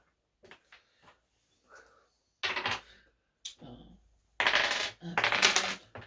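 Dice rolled during a tabletop game session, a few small clicks then two bursts of rattling tumbling on a surface, with brief talk in between.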